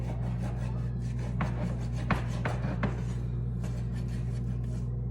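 A knife saws and scrapes through a whole Costco beef rib down at the bone, in uneven rasping strokes with a few sharper cracks over a steady background hum.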